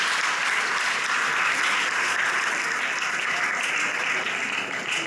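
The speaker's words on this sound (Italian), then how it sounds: "Facciamo un applauso a Pasquale." An audience at an Italian folk festival in Castellamonte claps in sustained, dense applause, a steady roar of many hands at even loudness from start to end with no voices standing out.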